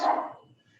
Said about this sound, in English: That's my dog. He wants to be a part of this too